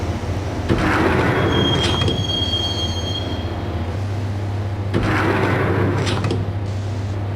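A train ride in the video game Max Payne: loud rolling rumble of rail wheels with a long metallic squeal early on, a low steady hum, then a second surge of clattering noise, with no voices.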